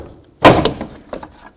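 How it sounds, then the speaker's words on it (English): A plastic trim tool pries the lower edge of a door panel free on a GMC Sierra 1500 pickup, a sharp loud pop of the clips releasing followed by a few smaller clicks and rattles. "We're going to come right down along the bottom of the door panel and try to break it free."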